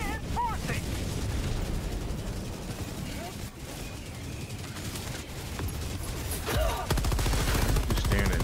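Rapid gunfire and explosive bursts in the video game Helldivers, dense and continuous with heavy low rumble throughout, a louder barrage near the end, mixed under game sounds.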